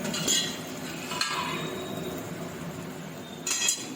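A spoon clinks and scrapes against a pan while onions fry, with sharp metallic strikes near the start, one in the middle and a cluster at the end, over a soft sizzle.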